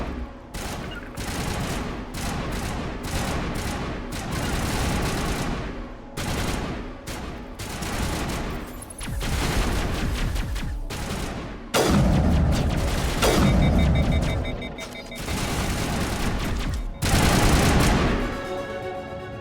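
Sustained firefight in Mass Effect: dense bursts of automatic gunfire and heavy booms crowd together, loud and close, with brief lulls before more volleys erupt.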